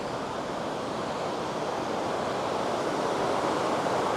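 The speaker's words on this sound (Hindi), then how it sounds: "और पानी की आवाज़ आ रही धड़ाधड़ मस्त वाली।" Water rushing at Lakkam waterfall in Munnar, a dense, continuous roar of falling and flowing water, loud and steady throughout with no pauses.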